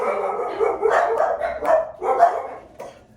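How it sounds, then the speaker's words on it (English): Several dogs bark in quick, overlapping bursts, fairly close and loud, with a few sharper yips mixed in. "sorry about the dogs."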